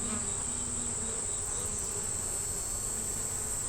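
Honeybees buzz around an open hive holding a young yellow queen, brood and larvae, making a constant, even drone with a steady high whine, close and uninterrupted.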